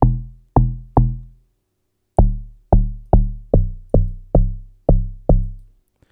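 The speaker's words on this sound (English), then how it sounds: "The first log drum sounds like this." A deep amapiano log drum made in FL Studio plays a syncopated pattern of booming, quickly decaying hits, three at first, then a pause, then a steady run of eight more.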